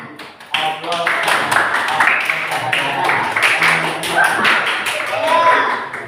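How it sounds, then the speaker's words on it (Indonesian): Classmates in a school classroom clap for a presenting group, a dense patter of hand claps and taps running for several seconds, with voices and chatter mixed in. "Kita beri aplaus dulu untuk kelompoknya kelompok 4 untuk maju dulu"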